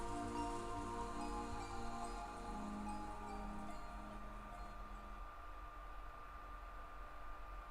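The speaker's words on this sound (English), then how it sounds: "As we listened to the sound of the rain" Rain falling steadily in a video game, a continuous soft hiss that stays even throughout, mixed with faint low tonal background sound and no voices.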